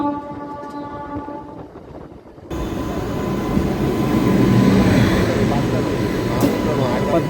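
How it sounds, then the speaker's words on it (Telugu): A MEMU train rumbles along the rails with a broad, steady roar that swells and stays loud after a quieter opening with a faint tonal hum. "మనది మెమో ట్రైన్."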